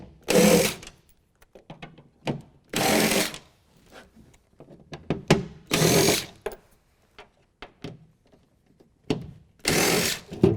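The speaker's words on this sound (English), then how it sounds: "Now we're going to use a T30 to take those out" A power driver with a T30 bit whirs in short repeated bursts while removing Torx head bolts from the bed of a 2016 Toyota Tacoma. The bursts are separated by small clicks and handling noises.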